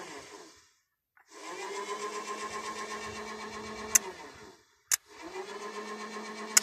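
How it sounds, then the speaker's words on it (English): A small electric motor powered by a 12 volt battery spins with a steady droning whine, cuts out briefly, then runs again, with a few sharp clicks in between. "that's the motor turning"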